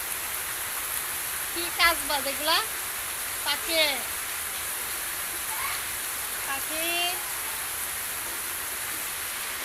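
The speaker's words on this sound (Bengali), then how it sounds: "বৃষ্টি হইতেছে বড় কথা" Steady rain falling outside during a power cut, a constant hiss throughout, with people talking briefly over it.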